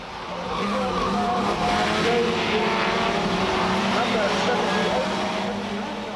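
Touring cars racing at Mondello Park in reverse direction, 1995 Irish championship: a dense roar of engines with tires squealing and skidding, sustained and loud, with commentary-like talk running underneath.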